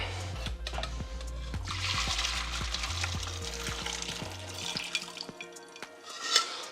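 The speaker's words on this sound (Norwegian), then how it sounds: "Heller av vann, ja." Hot water poured off boiled potatoes from a pot into a sink, making a continuous close splashing gush with a low steady hum beneath, then tapering off near the end.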